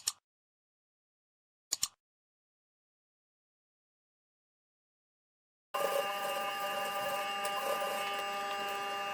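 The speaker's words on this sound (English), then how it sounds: "we are going to sew a straight line like so" Sewing machine stitching a straight seam on a tote bag, a steady mechanical whir starting after two short clicks and a long silence, continuing to the end.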